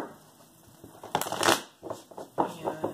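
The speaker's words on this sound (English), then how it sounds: "that will conclude the last shuffle there." Tarot cards being shuffled close up in a few brisk, rustling bursts, with soft flicks and slaps between them.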